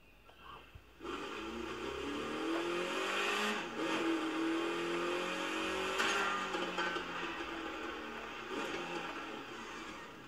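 A Mini Cooper S in the racing game The Crew 2 pulls away and drives, its engine note rising and shifting through revs in a steady, loud drone with brief gear-change dips.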